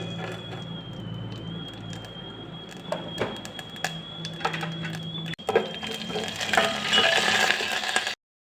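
Tempering seeds crackle and sizzle steadily in hot oil, growing louder and denser toward the end, with a thin steady whine running above it and no talking.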